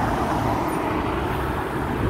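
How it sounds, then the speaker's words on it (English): A bus passes along a road, producing a steady, loud engine and tyre rumble that fills the short stretch without pause, with no talk. "I'll just wait until the bus goes"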